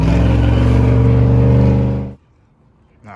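A decladded factory GMC truck on 20-inch wheels revs and drives close by, a loud throaty engine roar that suddenly cuts off and drops to near silence.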